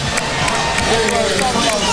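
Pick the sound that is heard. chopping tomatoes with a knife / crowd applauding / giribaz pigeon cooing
crowd applauding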